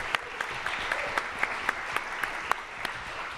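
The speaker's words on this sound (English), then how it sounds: "Please give me a round of applause for Teague Armour Thorson." A conference audience at an AI summit applauds, steady clapping from a moderate-sized crowd in a hall with a few sharper individual claps standing out.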